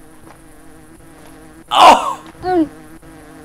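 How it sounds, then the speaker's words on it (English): Bees buzz in a game scene with spiders and a llama, a loud buzzing swell around the middle followed by a second shorter burst, over a faint steady hum, with a brief exclamation. "Why are there so many dang bees?"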